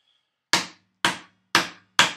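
Hand tools chop mortises for a workbench, giving four sharp, evenly spaced mallet-on-chisel strikes about half a second apart. Each blow is close and loud, with a quick decay.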